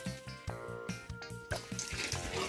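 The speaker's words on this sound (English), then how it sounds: "It's actually bringing water all the way from the bottom all the way to the top." Water spilling from the top of a corkscrew water lift exhibit at a children's museum, a continuous splashing flow with rhythmic sloshing pulses, fairly close.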